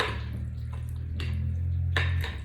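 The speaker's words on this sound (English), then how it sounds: "you're going to pour all of this into your dish" Turkey tetrazzini mixture pours into a baking dish, a thick, wet sloshing with a few soft plops and dish clinks over a low steady kitchen hum, close by.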